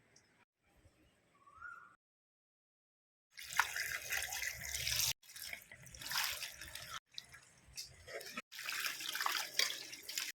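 Tap water runs and splashes in bursts while homegrown gongura leaves are washed clean in a kitchen, close and fairly clear, after a quiet start with faint background sounds.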